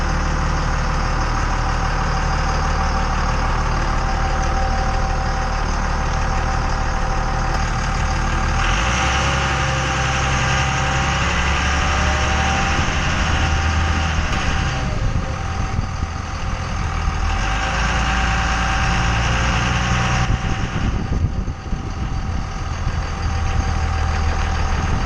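A Dodge Cummins 24V diesel truck engine idles smoothly while warming up, a loud, steady low rumble with a faint clatter that continues for the whole span, with a slight rise and fall in tone partway through.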